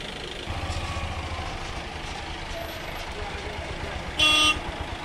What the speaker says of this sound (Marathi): अजून गाड्या येतात आपण पाहताय.